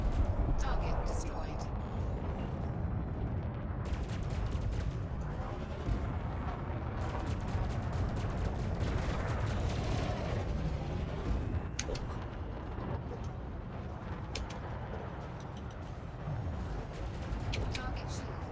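Rapid weapons fire in the space combat game Elite Dangerous, a dense stream of sharp crackling shots layered over a constant loud engine rumble, with speech in the mix.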